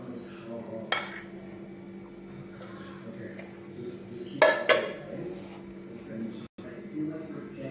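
Dishes and cutlery clinking during a home meal of vegetarian food, a few sharp isolated clinks spaced out over a low steady background.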